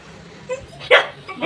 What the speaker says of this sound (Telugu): ఈ కుక్కని చూడండి